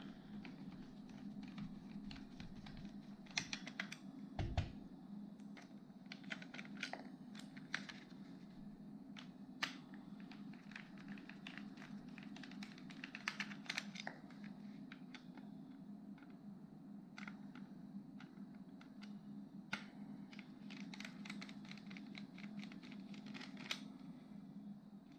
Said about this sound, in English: Okay, so I'll just get these screws out.